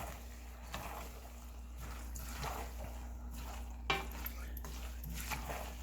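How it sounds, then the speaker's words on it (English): Fresh parsley and green onions being stirred into a cooked dish, with soft scraping and light clinks of a utensil against the pan over a steady low hum, quiet and close, with no talking. "You add them in, you stir them in."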